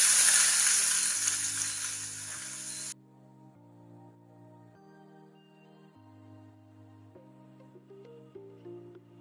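Onions drop into a pan with curry leaves for a beetroot palya, giving a loud, steady sizzle for about three seconds before it cuts off and tonal music plays on.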